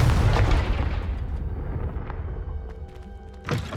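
A Confringo blast spell fired in Hogwarts Legacy, a heavy booming explosion right at the start that rolls off into a decaying rumble, followed by a smaller burst near the end.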